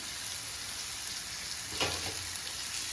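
Maharashtrian thalipeeth, a flat multigrain flatbread, fries in oil in a pan with a constant soft sizzle, and a brief utensil clatter and scrape stands out midway through.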